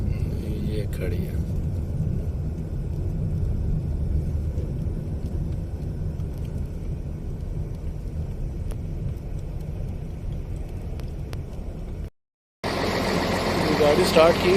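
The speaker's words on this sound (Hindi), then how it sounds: "गाड़ी स्टार्ट की हुई है आगे" A parked truck's engine idles while its air pressure builds before a Dubai-to-Oman haul, a steady, heavy low rumble that runs without a break, then cuts out briefly near the end.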